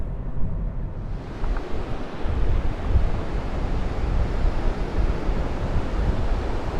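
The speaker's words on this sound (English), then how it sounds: "Very high tide at the moment, and there's a good wind, as you can probably hear" Strong wind buffets the microphone as surf breaks on Famara beach at high tide, a loud, continuous roar of wind and waves with no voices.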